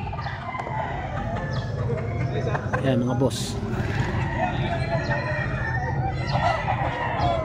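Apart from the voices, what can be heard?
roosters crowing and clucking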